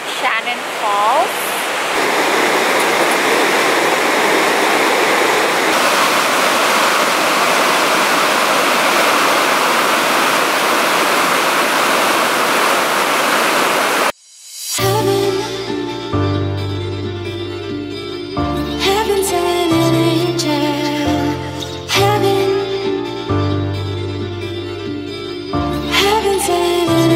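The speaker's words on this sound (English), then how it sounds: "Before heading to Sea to Sky Gondola, we're here at Shannon Falls." Shannon Falls, a waterfall in Canada near the Sea to Sky Gondola, pours as a loud, steady, close roaring wash for about fourteen seconds, then cuts off abruptly as music takes over.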